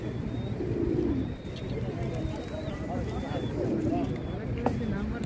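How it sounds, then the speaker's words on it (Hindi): Arabian frillback pigeons coo in low, soft bursts at a busy Kuwait bird market, with other birds chirping faintly and people talking throughout the crowded background. "ये अरेबिक कबूतर थोड़े से अच्छे समझे जाते हैं दुनिया में साइज के हिसाब से।"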